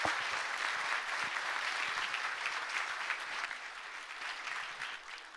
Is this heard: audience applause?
yes